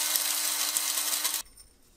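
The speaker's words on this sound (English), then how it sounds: "I'm gonna grind all of the whole spices in a coffee grinder" Coffee grinder set aside for spices, grinding a batch of whole curry spices: a loud, steady high-pitched whir with buzzing rattle, running alone for about a second and a half before cutting off sharply.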